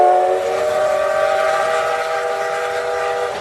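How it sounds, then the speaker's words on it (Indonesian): A loud, sustained steam locomotive whistle sounding continuously with a steady chord-like tone, close by and unbroken for the whole stretch. "muncullah kereta api berbahan bakar uap"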